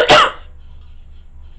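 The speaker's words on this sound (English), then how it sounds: "I'm just going to cough the whole time." A single sharp cough bursts out near the start, loud and close, then fades into a quiet room hum with no further sound.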